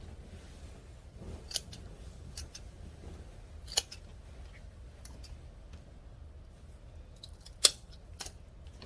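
Scissors snip through long plant roots during repotting, giving three or four sharp, isolated clicks spread across a quiet indoor background with no talking.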